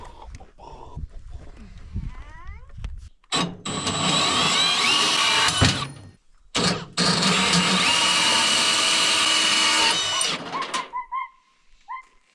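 A power tool cuts through metal on a vehicle in Alaska, starting with a brief burst, then a loud sustained grinding whine of several seconds after a short pause, close by.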